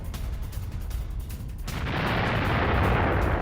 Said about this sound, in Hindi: यूक्रेनी सेना पर आर्टिलरी अटैक हुआ है।